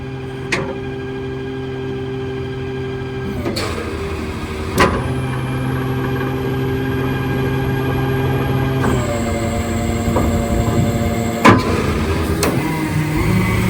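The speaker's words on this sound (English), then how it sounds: "you can come back to the power on button, press it, and then you can automatically stow your outriggers" Elliott L65 bucket truck's outriggers stowing automatically, steady hydraulic pump hum with shifting mechanical whines that change pitch as each stage moves, punctuated by several sharp clunks and clicks, with the engine running throughout.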